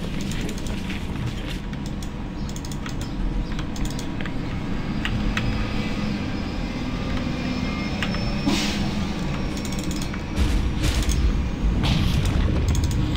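Tinker's rockets spammed repeatedly in a Dota 2 match, a dense run of booming impacts and mechanical whooshes with sharp clicking bursts, loud and busy, growing heavier near the end.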